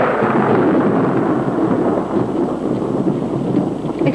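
A dense wash of heavy rain roars steadily alongside deep rumbling thunder, loud and continuous without pause.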